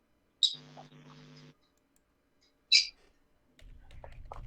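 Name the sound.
pet lovebirds chirping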